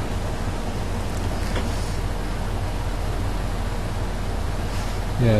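Steady broadband hiss of rain in a train simulator game, even and continuous, with a brief low rumble near the end; no talking.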